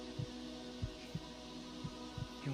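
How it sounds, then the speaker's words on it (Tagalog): Faint, steady heartbeat thumping at a regular rhythm, about one beat every third of a second, low and soft over a quiet hum. "lakas namang heartbeat niyan."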